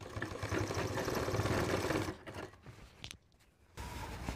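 A sewing machine stitches a waistband belt onto a pair of pants, running in a steady mechanical whir for about two seconds, then quieting to softer intermittent sounds before resuming briefly.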